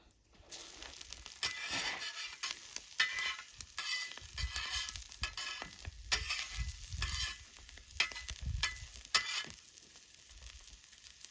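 Steady sizzling and crackling of eggs frying on a hot saj pan, with intermittent scraping and stirring strokes.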